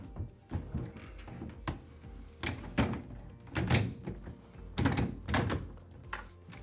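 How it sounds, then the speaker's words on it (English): A REVEGO Uno pocket door is lifted into place during an on-site installation. A series of close wooden thunks and knocks sound at irregular intervals, and several firmer bumps cluster near the end. "I can lift the door up and put it into place"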